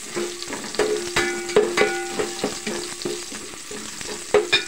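Garlic sautéing in a pan for a Filipino tadtarin dish, a continuous sizzle punctuated by repeated scraping stirs and clinks of a utensil against the pan, close and alone without speech.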